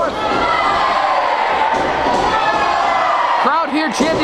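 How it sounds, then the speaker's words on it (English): A loud wrestling crowd chanting and cheering in an arena, dense rhythmic voices filling the space, with rising melodic chant phrases near the end. "Crowd here chanting Olay."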